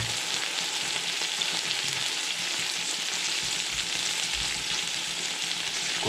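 Green chillies, mint and onions sauté in hot oil for duck biryani, giving a steady, loud, close sizzle with soft stirring throughout and no talk.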